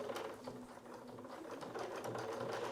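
Sewing machine stitching denim with a Schmetz denim needle: a short, continuous mechanical whir of rapid stitches, close and moderately quiet, with no talk.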